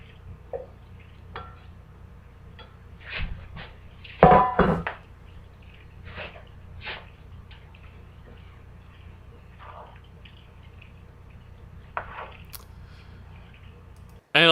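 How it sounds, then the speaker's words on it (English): Macaroni poured into a pan of cheese and milk, giving soft wet squelches and a few clanks of metal against the pan, with one louder burst of clattering partway through and quiet gaps between. "pour in the macaroni."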